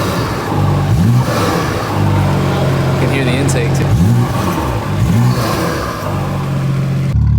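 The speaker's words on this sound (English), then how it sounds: "OG M2 with the N55, this is what it sounds like." BMW F87 M2 with the N55 engine and M Performance exhaust revs several times in loud sweeping blips over a steady idle, with brief talk partway through.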